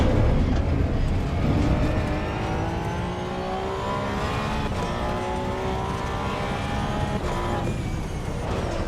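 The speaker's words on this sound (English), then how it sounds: "This car is fun to drive here." A car driving around, its engine droning steadily throughout with rising pitch sweeps as it accelerates and revs, fairly loud and close, with no talking.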